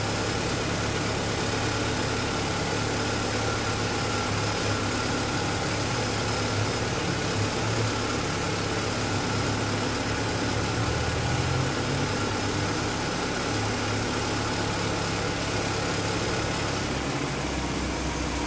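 A loud modified car engine idles steadily and close by, a rough continuous rumble with slight wavering, no voices.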